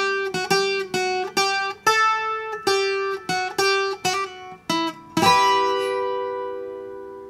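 Bright plucked requinto guitar chords strummed in a quick, steady rhythm, about a dozen crisp attacks, ending on a ringing final chord that lets sustain.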